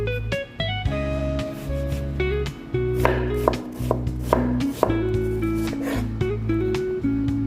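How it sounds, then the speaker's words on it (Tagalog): Knife chopping red onion on a cutting board: a quick, steady run of sharp, close chops with music playing underneath. "Chop lang natin ng red onion."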